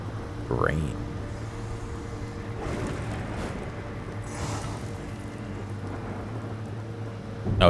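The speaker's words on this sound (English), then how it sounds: "Rain." Rain falls steadily in The Black Grimoire: Cursebreaker, a continuous hiss with a low droning background, while a person talks over it briefly.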